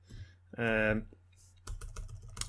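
Quick keyboard typing and mouse clicks at a computer while running code, with a short burst of voice-like sound in the middle before a denser run of clicks.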